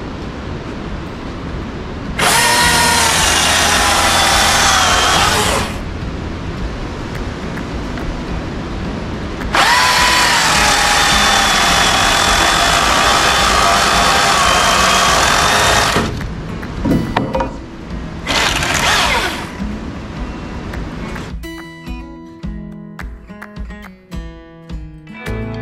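Power tool cutting out framed openings in a pole barn build, roaring in two long close bursts with a shorter burst later, then fading into clattering and knocking, no voices.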